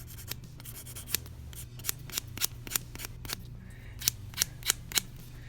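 A Scotty Peeler label remover blade rubs against plastic like sandpaper, giving a series of sharp, close scraping strokes in an uneven rhythm over a low background hum.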